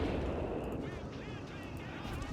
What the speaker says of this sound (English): We got our artillery focusing on this stuff